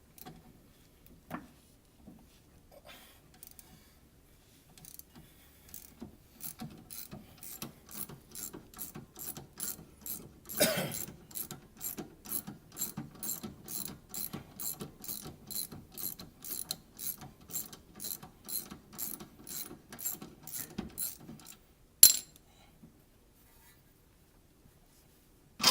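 A ratchet with a 17mm socket works the lower rear shock mount bolt loose on an ND Miata, giving a long run of quick, evenly spaced clicks at moderate level, with a sharp clank near the end, and no voices.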